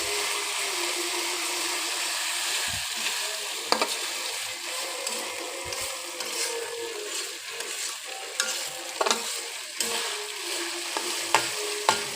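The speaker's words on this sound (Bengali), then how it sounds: "আদা রসুন পেঁয়াজটা খুব ভালো করে ভেজে নেবো" Ginger, garlic and onion fry in a pan for a broiler chicken curry, a loud, continuous sizzle with repeated stirring scrapes and taps throughout and no talk.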